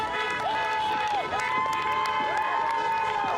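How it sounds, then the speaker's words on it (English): A large crowd of Biden supporters in Lawrence, Kansas cheers and shouts continuously, a dense outdoor roar with whistles and whoops rising over it, loud and sustained throughout. "In Lawrence, Kansas, cheering Biden supporters waved American flags and banners reading"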